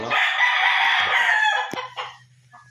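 Gilmore Hatch gamecock rooster crowing once, close and loud, a long drawn-out cock-a-doodle-doo that trails off into quiet background.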